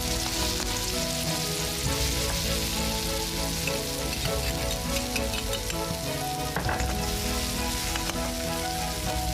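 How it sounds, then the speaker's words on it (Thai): Finely chopped chilies sizzle and crackle steadily in a hot pan as they are stir-fried for seafood basil stir-fry, a dense, close frying hiss with occasional scraping stirs. "นำพริกที่เราห่อละเอียดเราจะผัดกันนะครับ"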